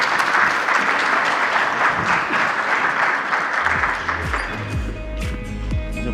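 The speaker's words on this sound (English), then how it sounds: "Applause, please." Steady applause from a conference audience at an enterprise cybersecurity event, sustained and dense for several seconds before thinning, with some low thumps entering toward the end.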